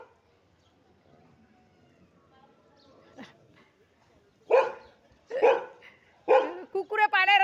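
A dog on a farm where goats and cattle have wandered in barks several times, a few sharp loud barks in quick succession near the end after quieter moments, with people speaking faintly in the background.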